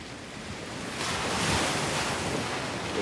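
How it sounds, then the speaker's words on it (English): Ocean waves break on a beach in a steady roaring wash, swelling louder after the first second, with wind buffeting the microphone and no voices. "The tide's right behind me, so they're crashing."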